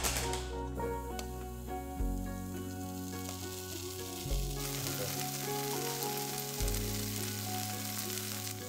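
Frozen French fries topped with cheddar cheese cook inside a closed waffle iron, giving off a steady soft hiss beneath continuous background music.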